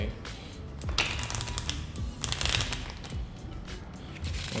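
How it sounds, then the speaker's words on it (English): Riffle shuffle of a deck of playing cards at a table, heard as a dense run of quick papery flutters and taps that swell twice, close and fairly soft. "So most people, they riffle shuffle like this."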